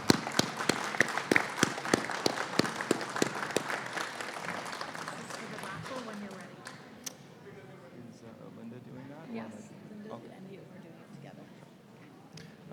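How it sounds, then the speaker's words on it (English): An audience applauds after a panel discussion on youth and road safety, with crisp clapping for about five seconds that fades into murmuring and people talking. "I think we all owe them a big round of applause."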